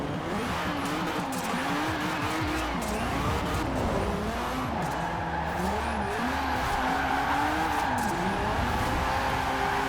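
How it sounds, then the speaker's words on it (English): Turbocharged JDM car in Forza Horizon 4, its engine revving hard and continuously with shifting pitch, along with tire squeal and skidding, loud and close throughout. "The sound of the turbo is so loud."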